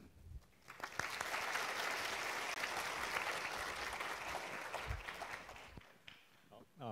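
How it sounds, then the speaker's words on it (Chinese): Audience applause in a lecture hall welcoming the first speaker at an academic talk on music and AI, a sustained broadband clatter of many hands lasting several seconds before tapering off near the end. "就让我们掌声欢迎第一位讲者"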